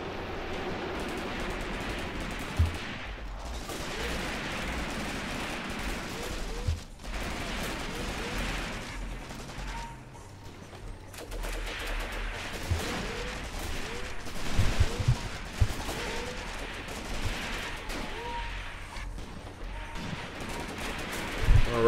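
Gunfire from a World War II Soviet battle at Stepanovka in a tactical wargame, with dense bursts of rifle and machine-gun shots and distant artillery crackling continuously under a steady battle din.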